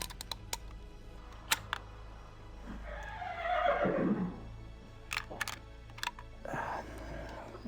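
A horse whinnies once in the middle of the video game Gabriel Knight 2: The Beast Within, rising and falling, with faint clicking and light background noise around it.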